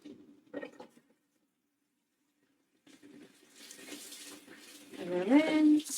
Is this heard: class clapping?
no